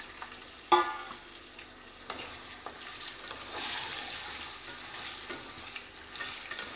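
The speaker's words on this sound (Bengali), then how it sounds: "তো আমি তেলের মধ্যে অল্প একটু হলুদ দিয়ে দিলাম আর একটু লবণ দিয়ে দেব। দিয়ে আলুগুলোকে দিয়ে দেব।" Potatoes going into hot white cooking oil seasoned with turmeric and salt, a soft continuous sizzle with a sharp clatter near the start and occasional light knocks, close by and fairly quiet, with no talking.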